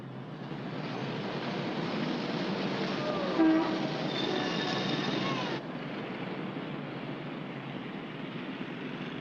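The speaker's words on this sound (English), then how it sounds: "For 2 dimes, you can get in the subway and ride all night." A subway train rides along on a 1953 film soundtrack with a steady rolling rumble and faint rail clatter, and a brief horn-like tone partway through.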